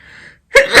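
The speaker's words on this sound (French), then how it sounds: "Je vais éternuer." A quick intake of breath, a brief pause, then one loud, close sneeze bursts out.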